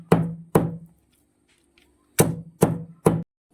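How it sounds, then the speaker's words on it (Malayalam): Heavy, dull thuds of onion and chili being pounded with salt on a stone, two quick strikes, a pause, then three more in steady rhythm, close and loud. "നമുക്കിത് കല്ലിൽ വെച്ച് നന്നായിട്ട് ഇടിച്ചെടുക്കാം."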